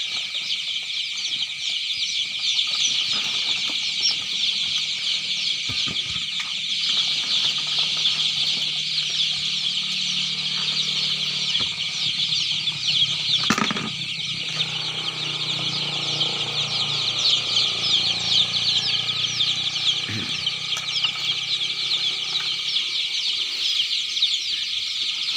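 A flock of young chicks on a chicken farm peep and cluck constantly while eating finely ground homemade pellet feed. The dense, high chirping continues throughout, with a few occasional soft knocks and thumps.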